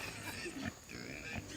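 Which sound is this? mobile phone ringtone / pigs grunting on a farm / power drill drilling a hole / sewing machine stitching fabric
pigs grunting on a farm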